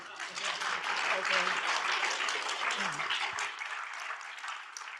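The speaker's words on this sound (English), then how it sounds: "If you clap stronger, then I think we conclude." An audience claps steadily at the close of a parallel session on inclusive transport policy, dense and even throughout, with a brief spoken voice faintly under the applause.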